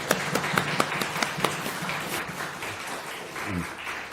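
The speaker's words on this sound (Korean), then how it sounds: "이럴 때 박수 한번 쳐주셔야 됩니다." A Baptist church congregation gives a short round of applause, opening with a few sharp distinct claps that swell into a brief scattered patter before it fades under a voice.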